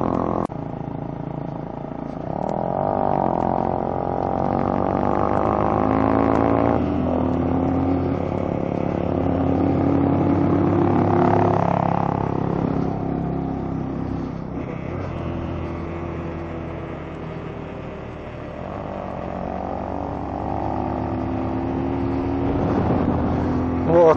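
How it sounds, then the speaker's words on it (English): A car engine labors uphill at high altitude on the road to Babusar Pass, a strained, droning motor with slow swells in pitch, heard inside the vehicle under occasional speech. "There's no power in the engine now."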